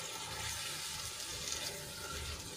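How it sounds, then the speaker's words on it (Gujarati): A glass of water poured into a pan of buttermilk-based gravy, a steady, close splashing pour lasting the whole moment, fairly quiet with no talk. "અહીંયા હું બીજું 1 ગ્લાસ જેટલું પાણી એડ કરું છું"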